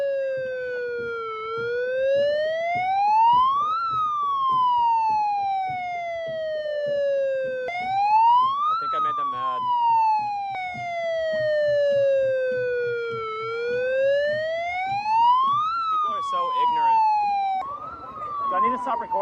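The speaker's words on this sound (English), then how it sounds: "getting a siren slammed into your ear and blasted on full blast" A loud wailing siren sweeps slowly up and down very close to the microphone, cycling repeatedly, with brief talk and some clatter underneath.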